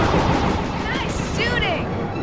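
Gunfire in the Sly 2 video game crackles in a dense, loud barrage under game music and whooshing effects, with a voice speaking over the shooting.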